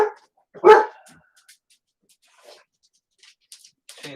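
A dog gives a single loud bark near the start, followed by a few faint scattered knocks and small noises in an indoor room.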